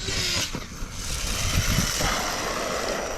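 An ARRMA Mojave 8S RC car's electric motor runs at full throttle, a steady whining roar somewhat distant and continuous for the short stretch, with no talk.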